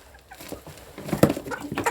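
Young hens being raised as breeding stock on a Thai village chicken farm cluck softly in a few scattered, rising calls, fairly close, with no talking.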